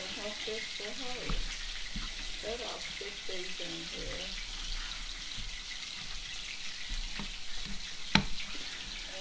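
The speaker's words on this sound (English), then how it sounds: "You hear these pork chops just a sizzling away." Pork chops sizzle steadily in a hot pan, a soft continuous crackle, with a few clinks and faint talking in the background.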